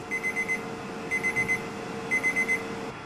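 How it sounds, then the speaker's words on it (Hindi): A timer alarm going off after a 15-minute wait, three bursts of rapid high beeping spaced about a second apart over a quiet background. "अब ये डालने के बाद हमें 15 मिनट रुकना है, और हमने ये टाइमर स्टार्ट कर दिया।"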